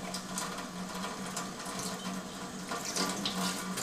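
Alkaline water from the gooseneck spout of an Enagic SD501 ionizer pours in a steady, unbroken stream, close and moderately loud, with no voices.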